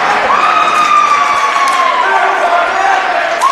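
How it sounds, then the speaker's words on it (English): A crowd at a boys' varsity volleyball sectional semifinal between Cicero-North Syracuse and Fayetteville-Manlius chants "Let's Go North Stars", a steady loud wash of voices in a gym with no break. "We got a Let's Go North Stars chant going in the crowd"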